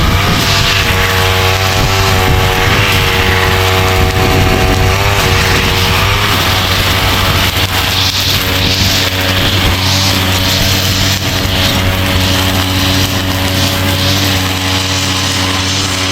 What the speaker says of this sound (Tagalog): Pag merong grass cutter.